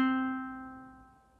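A single guitar note, fretted with the first finger on the second string for a song, is plucked once and rings out, fading steadily over about a second and a half.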